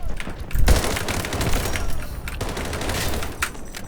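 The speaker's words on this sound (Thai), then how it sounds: "ไม่ปืนแม่งโคตรดีเลยวะ M14 อะนะ" M14 rifle fire in Delta Force cracks in repeated loud shots and short volleys, with a heavy blast early on and quieter shooting between, with faint talk in the background.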